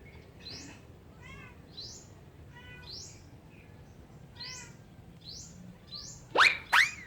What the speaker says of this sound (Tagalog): Yung umawit na ibon.